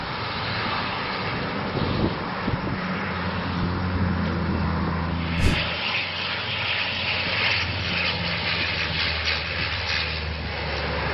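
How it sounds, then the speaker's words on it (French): A firefighting propeller airplane roars past low overhead while fighting a forest fire in Croatia, its engine drone steady and loud, with a brief sharp swell midway as it passes. "Cet avion de lutte anti-incendie est en train d'éteindre un feu de forêt en Croatie"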